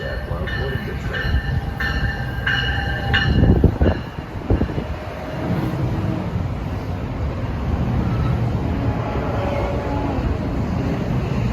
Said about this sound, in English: Track 4 we have a Trenton-bound train.